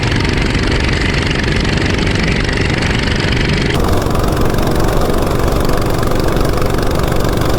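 A CT200U-EX mini bike fitted with a stock 420 big block engine runs loud and close, a dense continuous roar that holds steady with no speech over it.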